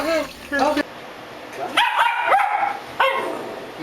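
A small dog yips and barks in sharp bursts while being coaxed into a bath, the short high calls coming in several quick clusters close to the microphone.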